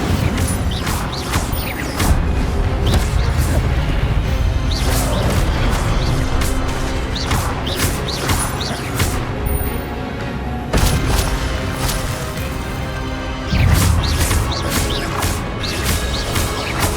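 Spell effects in Hogwarts Legacy, including the Incendio fire spell, burst repeatedly over game sound, with loud whooshes and crashing impacts recurring throughout the stretch, with no voices.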